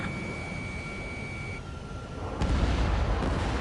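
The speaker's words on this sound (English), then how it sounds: "H2, missile launch." Missile launch in the combat flight video game Ace Combat 7: a sustained loud roaring rush over steady jet-engine drone, swelling with a sharp burst midway and growing louder, with no talk.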